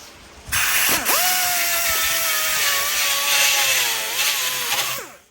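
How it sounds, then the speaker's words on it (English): A rotary burr bit grinds metal while cleaning up parts on an 88-98 Chevy C1500 pickup, giving a steady high-pitched whine for about four seconds that starts abruptly and bends in pitch as the load changes, then winds down. "we're gonna clean it up a little bit with a burr bit"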